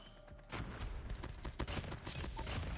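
Rapid bursts of gunfire from the mobile shooter Call of Duty Mobile, a Peacekeeper rifle firing repeated close shots in quick succession at moderate volume.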